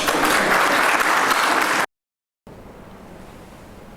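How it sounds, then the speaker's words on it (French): An audience gives a dense burst of applause at the closing ceremony of a seminar for provincial councillors' offices. The clapping breaks off suddenly, then returns faintly after a short gap. "Acclamez."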